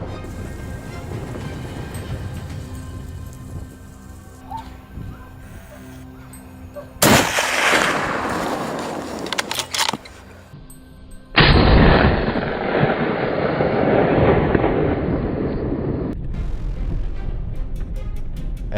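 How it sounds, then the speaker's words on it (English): Hunting rifle fired at a wild boar in mountain woods, a loud single blast with a long rolling echo, followed by a second heavy report and a sustained noisy rumble. "The shot broke the stillness of the mountain woods."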